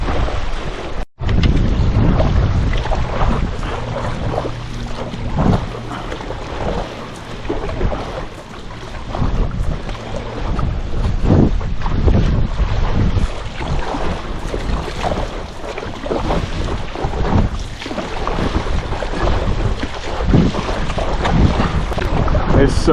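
Strong gusts of wind roar continuously into the microphone while paddle boarding downwind on open water after a tropical storm, with splashing and water rush mixed in throughout.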